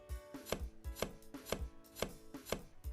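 Onions are chopped in the video game Cooking Academy Fire and Knives, with a steady run of about twelve evenly spaced, crisp knife-on-board thunks, close and alone with no talk.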